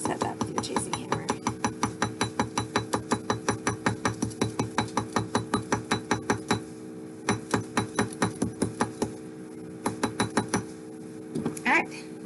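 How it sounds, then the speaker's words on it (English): A chasing hammer setting a rivet on a steel bench block for handmade earrings, a long run of rapid, evenly spaced metallic taps with a ringing tone, close and steady, pausing briefly near the end. "drop your metal over your rivet, and then set that with your chasing hammer"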